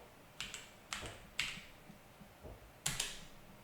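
Quiet, sparse keystrokes on a computer keyboard, about five separate taps spread over a few seconds with pauses between, as a short command is typed into a terminal.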